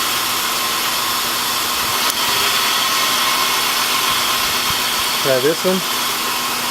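A Honda Accord V6 idles roughly with one ignition coil unplugged, a steady loud engine drone with a faint uneven shake, and a brief voice speaks near the end.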